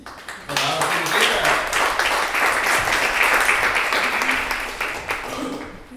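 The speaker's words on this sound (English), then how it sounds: "So a warm round of applause for Howard's" Audience applause for a junior theater company at a presentation event, a full burst of many people clapping that starts abruptly after a brief pause, holds steady for several seconds and begins tapering at the end.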